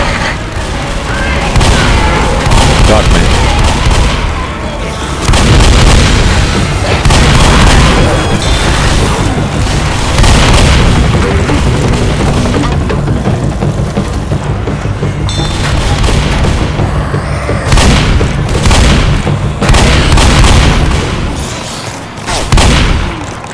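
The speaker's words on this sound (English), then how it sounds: "Grenade!" Grenade blast and gunfire in the Left 4 Dead survival map at the lighthouse, loud booms mixed with dense, continuous shooting and chaotic game noise throughout.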